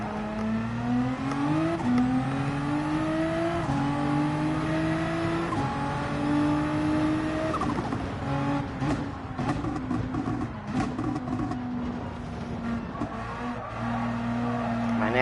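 Race car in Gran Turismo 7 at the Nürburgring, engine revving in rising gear pulls with whining harmonics while tires squeal and slide through corners, loud and continuous.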